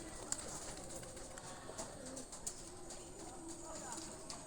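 Pigeons coo softly in a rural village yard, faint and somewhat distant, with someone talking over the birds and light background rustle.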